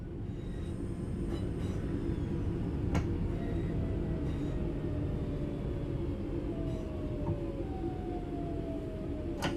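A train in the Train Sim World 6 video game rumbles steadily as it brakes, with long descending metallic wheel squeals and a few brief clanks over the continuous low roar.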